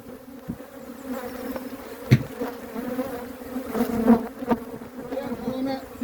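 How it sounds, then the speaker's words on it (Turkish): Honeybees buzz steadily in a dense swarm around a hive during a transfer to a new hive, a low droning hum with individual bees flying close past now and then. "çok fazla arı kaldığı için bu şekilde uçuşmalar olacaktır"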